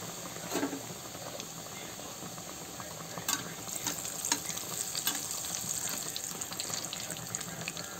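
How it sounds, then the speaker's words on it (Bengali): Bread pakora deep frying in hot oil, one at a time, giving a continuous hissing bubble with a few brief clicks and knocks, close and fairly quiet with no voices. "একটা করেই ভাজবো"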